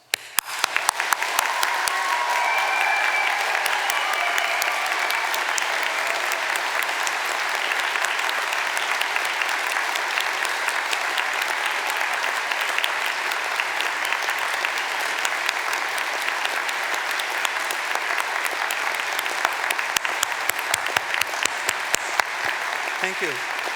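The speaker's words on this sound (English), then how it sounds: "giving all our amazing graduates a huge round of applause" A large audience applauds graduates at an Open University degree ceremony in Gateshead, with loud, sustained clapping filling the hall for over twenty seconds before tapering off.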